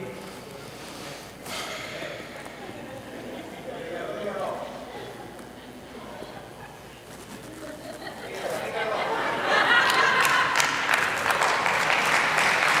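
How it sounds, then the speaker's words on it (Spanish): An audience at a Bible teaching talk breaks into applause that builds and grows louder near the end, heard under a man's ongoing speech. "Ahí se aplaude usted, yo no sé por qué está aplaudiendo ahí."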